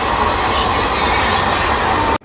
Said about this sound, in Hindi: वो ट्रेन कोई जा रही है।